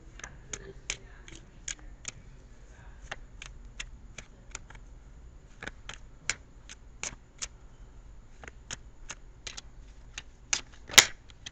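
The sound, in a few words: shuffling tarot cards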